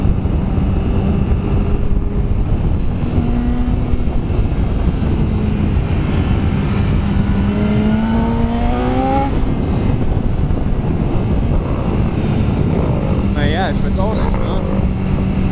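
A drift car's engine roars and revs from some distance, its pitch climbing in a long sweep midway, under ongoing talk and steady outdoor wind noise.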